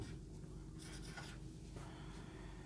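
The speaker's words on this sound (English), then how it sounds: "So let me write it down over here." Marker or chalk strokes rub across a lecture board in short bursts of scratchy writing with brief pauses between, faint and close over a low room hum.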